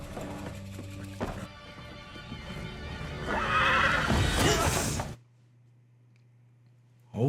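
A frightened horse lets out a loud, drawn-out whinny with hoof clatter and music around it, then cuts off into near silence.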